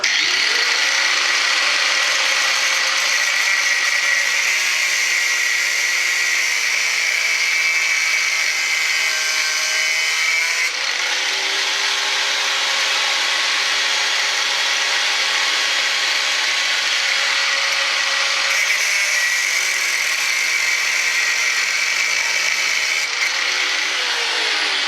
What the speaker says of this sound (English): So the next thing I think is to cut it down to length, cut this end off.